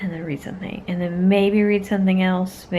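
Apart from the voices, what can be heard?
No distinct noise like a dog, phone or traffic.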